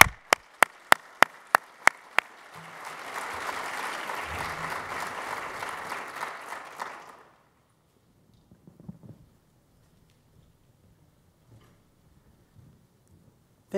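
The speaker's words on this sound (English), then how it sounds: "let's give them a round of applause" An audience at a fireside chat on California carbon goals breaks into applause. A few sharp early claps swell into a dense round of clapping that lasts several seconds, then stops abruptly into near silence.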